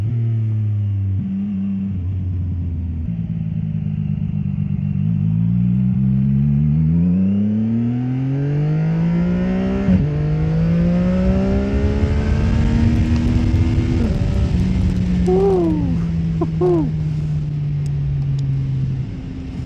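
A CF Moto 675 motorcycle engine runs continuously while being ridden, its pitch climbing and dropping as the revs change and falling away as the bike slows, with wind noise throughout and no talking.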